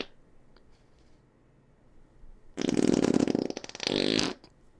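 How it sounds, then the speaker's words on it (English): A loud, drawn-out fart sound effect plays after a short quiet stretch, a buzzy blast lasting over a second that breaks briefly before a shorter second burst. "That's a good fart."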